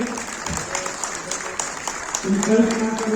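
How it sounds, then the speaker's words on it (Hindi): Crowd applause at a Hindi poetry recital, even clapping from many hands that continues while a voice or tone rises over it toward the end. "तालियों में कंजूसी हम ना करें।"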